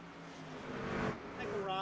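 Racing truck engine in iRacing at Chicago, a sustained whining roar swelling briefly as it passes, heard under an excited race commentator.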